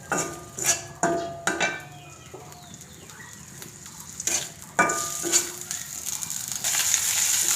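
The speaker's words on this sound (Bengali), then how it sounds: "আমি সরিষার তেলটা ব্যবহার করছি, আপনারা যে কোনো রান্নার তেল দিয়ে মাছগুলো ভেজে নিতে পারেন।" Fish hit hot mustard oil in a pan and start frying, with crackling sizzle and a few sharp clatters early on. The sizzle steadies and grows louder toward the end.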